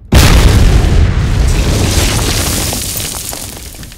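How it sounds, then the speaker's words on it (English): A loud explosion bursts from the Ground Branch video game, a sharp deep boom that rolls into a long rumbling decay over several seconds with no talking. "And of course, we've got cool explosions"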